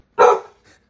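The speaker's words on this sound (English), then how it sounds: "My son didn't understand why he was barking" A dog that is terrified of balloons gives one loud, sharp bark close by, followed by a faint softer yip a moment later, with silence around it.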